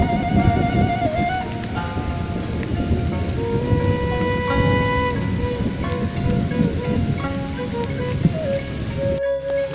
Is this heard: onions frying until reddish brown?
no